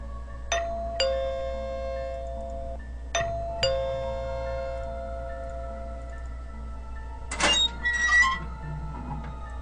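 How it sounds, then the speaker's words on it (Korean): A doorbell chimes twice with ringing, sustained tones, followed by a brief clatter of another sound near the end; a low hum runs underneath. "누군가가 현관 초인종을 눌렸다"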